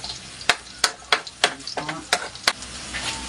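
Garlic frying in a pan for an ampalaya dish: a continuous close sizzle broken by sharp rhythmic clacks of a utensil stirring and tapping against the pan.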